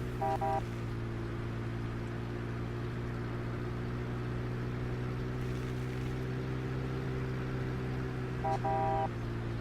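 A farm vehicle in Farming Simulator 17 drives slowly, its engine giving a steady, loud, unchanging drone with a brief higher tone at the start and again near the end.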